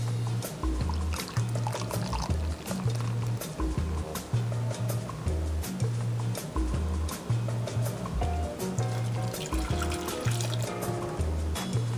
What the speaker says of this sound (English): add a stick and 2 tablespoons of unsalted butter in a pan and melt it with a cup of Guinness